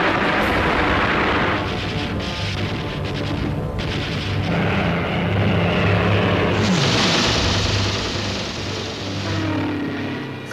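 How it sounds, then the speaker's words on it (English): Spitfire and Hurricane fighters flying in a dogfight, with propeller engines droning and sweeping past, one pitch sliding down as a plane passes overhead, and distant booms mixed in. "The sky was full of dogfighting aircraft as the German formations broke up"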